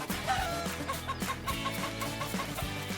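A farm chicken clucks in a quick run of short repeated notes under a steady bed of music, moderately close and clear.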